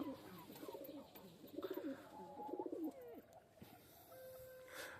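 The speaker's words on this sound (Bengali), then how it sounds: "বাবু বকম এখানে চড়ছে দেখতে পাচ্ছ" Pigeons coo nearby outdoors, several soft rolling cooing phrases in sequence, fairly close and quiet, followed by a faint chirp near the end, no talking.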